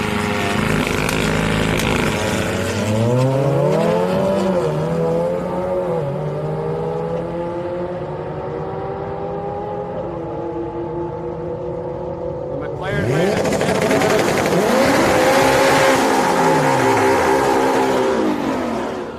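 A McLaren making a drag racing pass at Houston Raceway Park on a Friday street night, its engine revving and shifting steadily for a long stretch before a louder surge of engine roar from another pass, with no speech.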